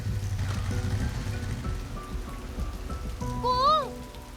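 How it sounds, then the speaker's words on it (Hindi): Steady rain patters in a continuous wash of noise, with a low rumble underneath and a brief whining tone near the end. "ये फोन में अभी बारिश नहीं आना था।"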